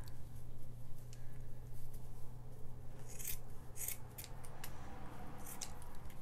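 Knife or scissors cutting away the bulk of a decorative gourd, a steady rasping scrape with sharp bursts of snipping and cracking through the hard shell, close up and continuous with no talking.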